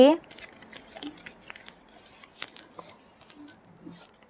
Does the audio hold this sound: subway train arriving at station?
no